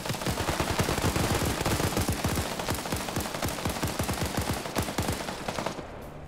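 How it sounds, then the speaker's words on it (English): Heavy automatic gunfire from a BTR armored vehicle in a PvP video game, a long sustained burst of rapid, evenly spaced loud shots lasting several seconds before cutting off. "You hear that BTR firing."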